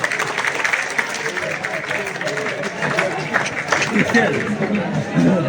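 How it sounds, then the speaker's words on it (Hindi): A crowd claps loudly and steadily at a Republic Day college function, welcoming a music performance, with chatter and voices mixed into the sustained applause. "जोरदार तालियां"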